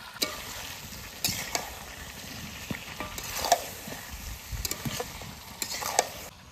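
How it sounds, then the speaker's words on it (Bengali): Meat sautéing in a pan with salt, ground dried chilli and black pepper: a steady sizzle and fry with occasional scraping stir strokes and light clinks, moderately close, no talking. "দশ মিনিট মাংসটা কষিয়েছি।"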